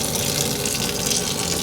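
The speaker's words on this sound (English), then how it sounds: "we're just gonna rinse off this chard, get it nice and clean" Tap water gushes steadily over chard leaves being rinsed in a kitchen sink, a loud continuous broadband rush with no voices over it.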